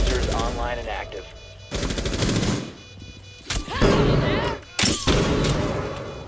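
Gunfire erupts in a Rainbow Six Siege match, loud bursts of rapid shots cutting in and out over several seconds, with excited voices talking between and over the bursts.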